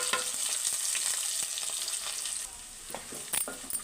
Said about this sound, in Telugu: పోపు దినుసులు అయితే ఎగిపోయి మనం ఉల్లిపాయలు అయితే యాడ్ చేసుకుందామండి